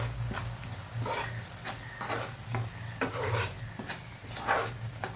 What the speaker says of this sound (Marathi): हे फ्रोझन मटार आहे, पटकन शिजतात. ते देखील फ्राय करून घेऊया.